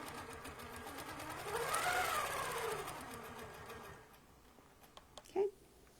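A longarm quilting machine stitches a quilt with a steady, rapid mechanical whir that peaks mid-clip and fades near the end, leaving faint ticks and a brief clunk.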